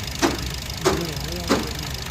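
A car engine that is throwing oil knocks over its running hum, with three evenly spaced, distinct thuds about two-thirds of a second apart, close and fairly loud.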